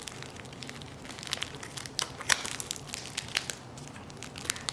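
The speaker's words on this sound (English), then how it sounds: "Just using kitchen scissors, not the best utensil for the job, but you can eventually cut through this." Kitchen scissors snip and crinkle through several layers of plastic packaging on a mango seedling shipment, with a steady run of close, crackly cuts and rustles.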